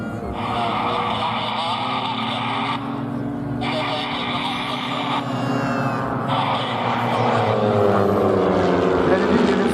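Propeller aircraft of the REVA aerobatic team flying a display at an air show, a loud continuous engine drone rising and shifting in pitch as they pass, with a commentator's voice over it.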